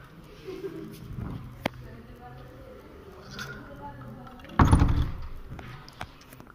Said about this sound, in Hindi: दरवाज़ा बंद हो गया है बस।